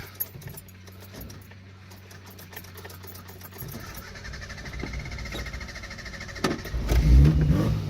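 A Suzuki Samurai engine idles with a low steady hum, then revs up and grows louder toward the end as it pulls away.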